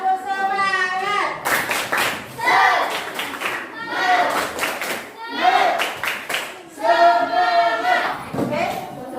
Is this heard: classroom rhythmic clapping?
yes